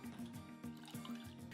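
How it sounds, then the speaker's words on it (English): Water, 150 milliliters, is poured into melted chocolate in a bowl while making chocolate mousse, a faint liquid trickle and gurgle with a few soft drips, quiet and close, no talking. "I'm going to add 150 milliliters of water"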